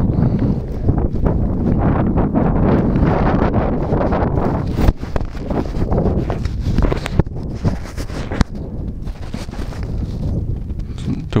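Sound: wind picking up at model glider field

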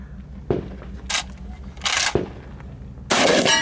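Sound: gunshots firing slugs at an Ironman shooting match

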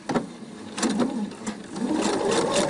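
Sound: Pfaff sewing machine stitching a decorative seam

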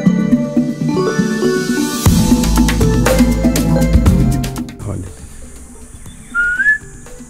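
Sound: wild bird calling in reply to whistled calls

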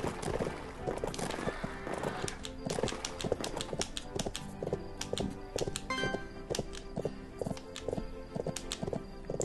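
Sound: horse hooves in Bibi & Tina horse farm video game

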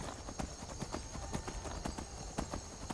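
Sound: horse hooves in the video game Skyrim

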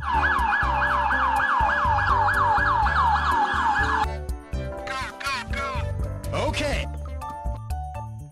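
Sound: police car siren

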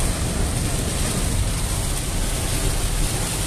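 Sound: heavy rain on a car during a driving lesson

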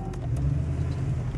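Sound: 1968 Chevrolet Camaro Rally Sport engine while driving

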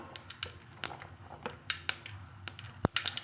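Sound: mustard seeds spluttering in hot oil

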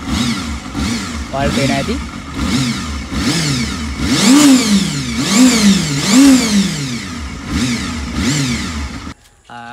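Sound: second-hand motorcycle engine starting and revving

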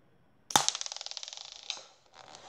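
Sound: toy connector ball launcher firing with a bang

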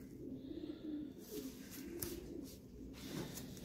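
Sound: racing pigeons cooing in the loft

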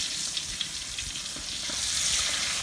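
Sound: squid frying and spattering in hot oil

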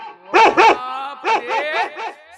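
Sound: dogs barking

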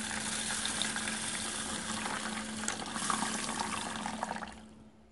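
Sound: water poured over grains and drained while washing them

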